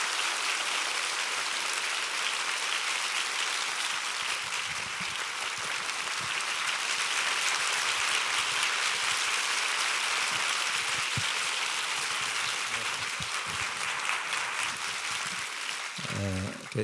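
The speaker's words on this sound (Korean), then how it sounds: "우리 김창근 목사님 광야의 축복 우리 한번 박수로 맞이해 주시기 바랍니다." A church congregation at a summer revival meeting applauds steadily to welcome Pastor Kim Chang-geun, a dense, sustained wash of clapping that fills the room for the whole stretch.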